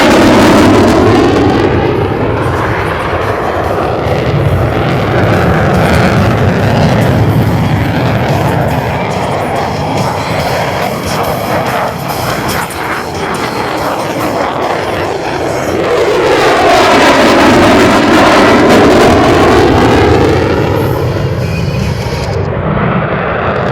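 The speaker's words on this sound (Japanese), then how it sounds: "F16 による90旋回をご覧ください。" An F-16 fighter jet pulls a 9G turn over the MCAS Iwakuni Friendship Day 2019 air show, its loud jet roar swelling, sweeping past and fading, then surging again as it comes back around.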